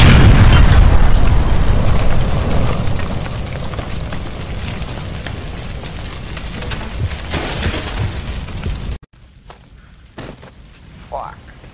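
A gas line explodes in the L.A. Noire video game. A loud, close boom hits at once and decays into a long roaring rumble, then cuts off to a quiet room with a few faint noises.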